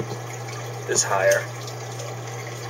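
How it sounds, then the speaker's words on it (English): Water running through a clear glass bell siphon, a brief burst of gurgling and splashing in the middle of an otherwise low, steady hum, with a person speaking over it. "You can see the water flowing."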